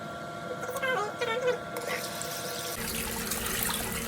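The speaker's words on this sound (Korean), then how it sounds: "씻고 있어? 비누로 잘 씻어야지." Hands washed with foaming pump soap under a running kitchen or bathroom tap, steady water hiss building and continuing to the end, with children's voices talking over the first part.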